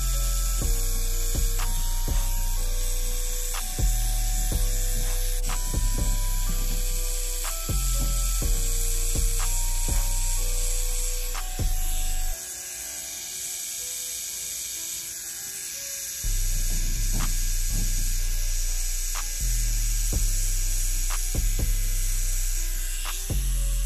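An electric eyebrow trimmer buzzes with a steady, loud mechanical hum, its tone dropping and returning as it presses against the brows during shaving, with no talking.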